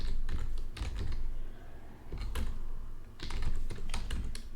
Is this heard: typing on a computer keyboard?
yes